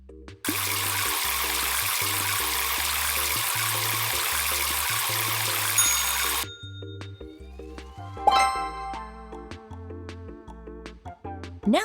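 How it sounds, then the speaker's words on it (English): Cartoon shower water gushes in a steady, loud spray for several seconds before cutting off, followed by light playful clinks and musical plinks. "Help our friend in the shower."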